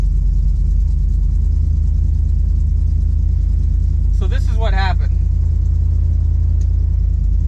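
A 1969 Plymouth Fury III engine, which has some trouble starting, idles with a steady, loud rumble throughout; someone speaks briefly in the middle over the running motor.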